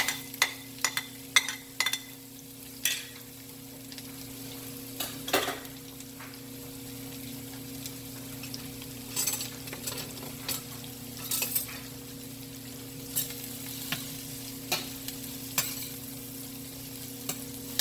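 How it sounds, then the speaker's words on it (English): Onions and garlic sauté in a pan as a soft, steady sizzle broken by scattered clinks and scrapes of a utensil stirring, close by and moderately quiet. "while we're sauteing the onions and garlic"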